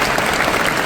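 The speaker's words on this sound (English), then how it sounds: "They are clapping" Audience clapping for young women at a social event, a brief, dense burst of applause heard loud and close, continuous throughout with no voices audible.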